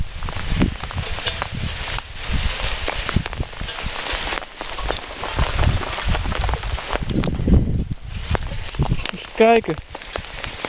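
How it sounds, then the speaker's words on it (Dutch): Hail and rain pelting down in gusty wind during a storm near Vorden, a steady dense patter with bursts of louder impacts, while people exclaim and talk over it. "Oh, een hagel."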